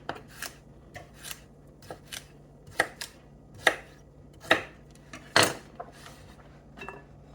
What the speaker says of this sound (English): Push it together and then just slice it like this.